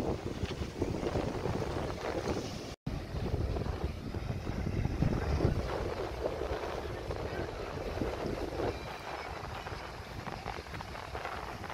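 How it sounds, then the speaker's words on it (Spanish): A motorboat heads in from Guatemala across open water, its engine a steady broadband drone mixed with wind buffeting the microphone for the whole stretch, with no talking. "Ahí viene ya la lancha desde Guatemala a dejar la hielera que hemos comprado."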